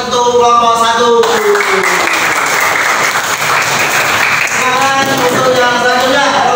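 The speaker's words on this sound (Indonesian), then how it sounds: "Tepuk tangan untuk kelompok 1." A classroom of students applauds a presenting group with a sustained burst of clapping that swells and holds for several seconds. Voices talk and call out over and around it.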